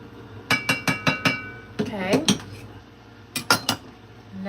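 Clattering of metal pots, pans and utensils as cake batter for hummingbird mini cakes is put into a small saucepan in a kitchen, a series of sharp close clinks in quick bursts, with a voice talking between them.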